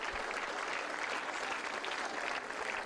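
A crowd at a VW Fun Cup endurance race event gives the bikers a steady round of applause, dense clapping held at an even level for about three seconds, fairly distant and without talk.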